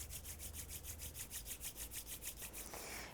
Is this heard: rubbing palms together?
yes